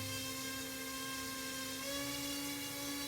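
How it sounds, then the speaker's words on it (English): Steady high-pitched whine of a small mini drone motor spinning, its tone rising slightly as the throttle increases, continuous and close. "If the throttle goes up, you'll see the motor spins faster."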